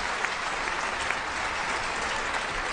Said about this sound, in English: much deserved applause from the crowd as well.